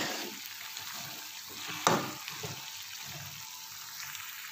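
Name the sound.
mixing chicken and ingredients in a pan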